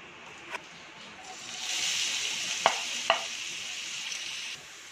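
Chopped onion, garlic and green chili hit hot oil and settle into a steady, close sizzle, with a few sharp clinks of a utensil against the pan.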